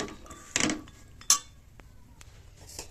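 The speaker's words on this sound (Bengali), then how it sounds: "তো ডুমুরটা দিয়ে নিয়েছি, আর একটু আমি চামচ দিয়ে একটু নাড়াচাড়া করে নিচ্ছি উপর নিচ করে।" A spoon knocks and scrapes against a cooking pot as figs and potatoes are stirred, making two sharp metallic clinks among quieter scrapes, close and alone.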